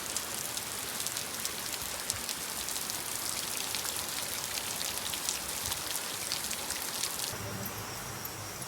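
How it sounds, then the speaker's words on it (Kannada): Steady rain pouring down outdoors, a dense, even hiss of drops that keeps going throughout at close range. "ಹಿಂಗೆ ಬರಾಕೈತಿ ಮಳೆ"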